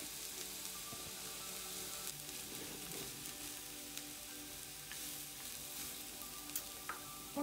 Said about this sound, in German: Und jetzt braten wir ein bisschen den Wirsing mit an.